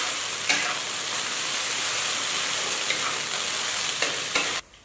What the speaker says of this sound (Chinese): 油温烧至7成热，下豆芽炒制，炒到豆芽变塌